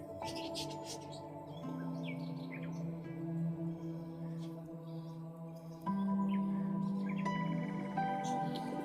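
Pigeons of a high-flying parwazi breed call near and steady at a pigeon club in Chishtian, with bursts of short chirps and a constant harmonic hum; someone talks throughout.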